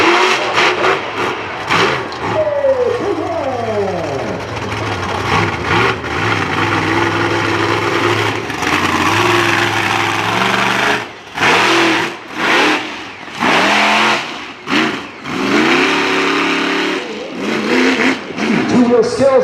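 A Roll Razor monster truck engine revs hard during a two-wheel skills competition at a Renegade Monster Trucks show in Franklin, PA, with loud rising and falling pitch sweeps, then choppy bursts of throttle separated by brief drops.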